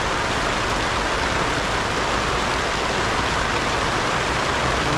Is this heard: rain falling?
yes